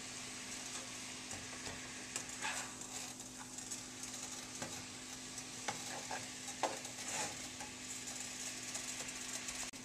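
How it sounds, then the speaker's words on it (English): Chili ingredients sizzle steadily in a hot pan, a continuous bright frying hiss with occasional pops and stirring scrapes running through the whole stretch, with no talking. "You can hear it all sizzling nice."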